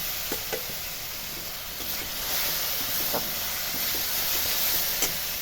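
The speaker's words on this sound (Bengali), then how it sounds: "আমি অল্প জল দিয়ে আবার একটু মশলাটাকে কষিয়ে নিচ্ছি" Spice paste (masala) sizzling and frying in a pan after a splash of water, for Bengali aloo dum, with a steady soft hiss and occasional faint clicks of stirring throughout.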